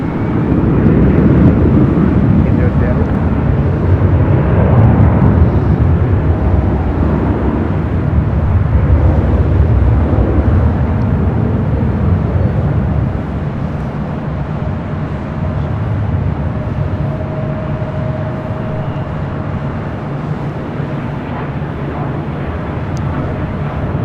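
An airliner taking off at LAX, a loud, broad jet roar that builds and swells in the first half, then recedes into a steadier, more distant rumble with a faint whine.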